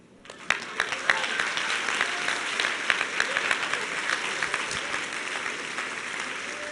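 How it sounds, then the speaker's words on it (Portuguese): An audience breaks into applause during a spoken address, rising sharply within the first half second into a full, continuous clapping that holds steady to the end, with faint voices beneath. "Só 2 aplausos?"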